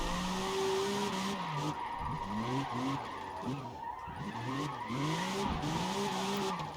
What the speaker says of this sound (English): Just to show how easy it is to actually slide in this game.